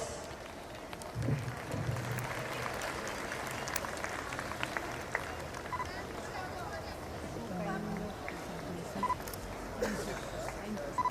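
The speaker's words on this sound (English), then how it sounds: "I request all of you to give a huge round of applause." An audience at a school annual day claps in a sustained, moderately loud round of applause mixed with crowd murmur and some speech.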